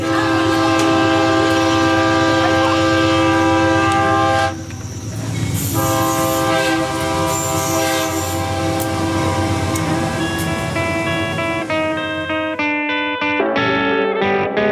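A railway train rumbles past at close range under a loud, sustained horn blast that holds for many seconds, with shorter horn bursts toward the end.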